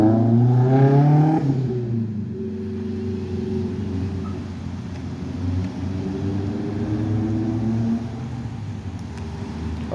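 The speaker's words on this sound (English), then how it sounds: "These cars are gonna cause an accident the way they're driving like that" Cars on a street pass and rev nearby, a loud engine rumble and whoosh swelling early, then a steady background of traffic drone with further passing vehicles, no voices.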